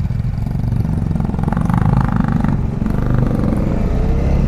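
A motorcycle rides along an empty road on a trip from Delhi to Salasar Balaji, its engine a steady, loud, low drone with wind rush throughout and no talking.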